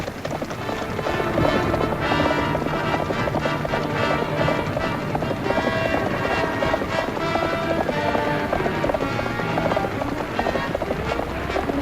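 Horses gallop hard in a vintage western TV episode, a continuous rapid clatter of hoofbeats at close range with wind rushing past, loud and unbroken throughout, with a voice briefly mixed in.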